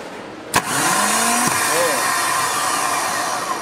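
A car engine cranks and fires up using a JumpsPower AMG6S portable 6000mAh jump starter, a sharp click followed by a steady, loud running roar that holds for several seconds with a tonal whine drifting through it.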